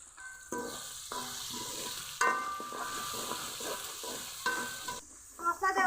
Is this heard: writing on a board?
no